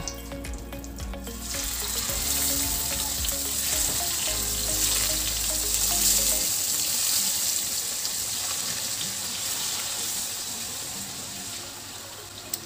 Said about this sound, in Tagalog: I-pan fry lang natin. Skin side down. Mahinang apoy lang po para maluto ng gusto yung chicken natin.